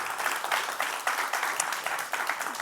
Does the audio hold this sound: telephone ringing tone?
no